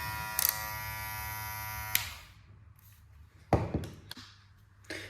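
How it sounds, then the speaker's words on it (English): A TPOB Troll Blackout hair trimmer runs with a steady electric buzz for a couple of seconds, then switches off, followed by a few sharp handling taps and clicks. "Quick look at the trimmer."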